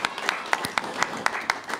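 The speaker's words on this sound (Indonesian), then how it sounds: "Sekali deh tepuk tangan buat Bapak Haji Caca." Audience at a Sundanese kliningan performance clapping for Bapak Haji Caca: steady, evenly spaced claps about four per second, moderately close and fairly quiet, with no voices over it.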